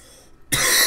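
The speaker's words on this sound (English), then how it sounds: "As you can tell from my cough" A single sharp cough after a direct-to-lung vape hit from a Youde IGO-W4 RDA bursts in after a brief hush, loud and close, following a faint hiss.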